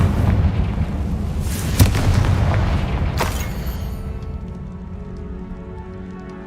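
A Confringo blasting spell explosion in Hogwarts Legacy: a deep, booming blast with sharp cracks near the start and again around three seconds, then a low rumble that fades with crackling debris.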